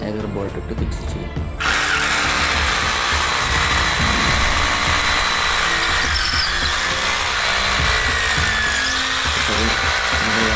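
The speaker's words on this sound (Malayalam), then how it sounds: "നമ്മളത് ഡ്രില്ല് ഉപയോഗിച്ച് ഹോൾ ചെയ്യേണ്ടതാണ്." A power drill bores holes for bolting a booster pump in place in a bathroom, a loud continuous whirring grind that runs nearly the whole time after a brief start, with someone talking over it.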